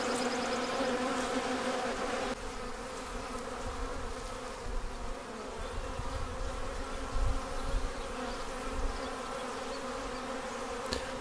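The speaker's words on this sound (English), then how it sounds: "Bees at the entrance venting, also guarding." Honey bees buzz steadily at a hive entrance, a dense continuous drone from many insects close by, with no voices.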